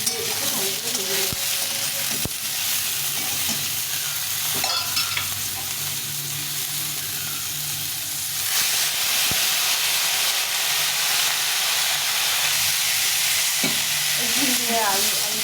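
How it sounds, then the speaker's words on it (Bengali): Ridge gourd and potato chunks fry with turmeric in a pan, giving a continuous, close sizzle broken by occasional clacks of stirring. "হলুদ দিয়ে একটু ভালো করে ভেজে নেব"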